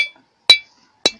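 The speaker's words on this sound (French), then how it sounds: "le coup de marteau sur la roche a une sonorisation là affectée au phonolite" A hammer strikes phonolite rock during mineral prospecting, giving two sharp, ringing clinks about half a second apart, loud and close, each fading quickly, with a faint tail of an earlier strike at the start.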